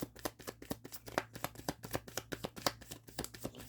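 Tarot cards are riffled and shuffled by hand in a quick run of soft, crisp flutters and taps, close and quiet, with no talking.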